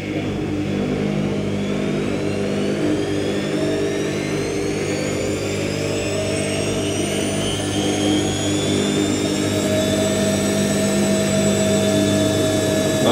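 An IKEA RENLIG IWM60 integrated washing machine spinning up, a steady loud whirring drone with rising whine tones and a slight screech throughout, no voices.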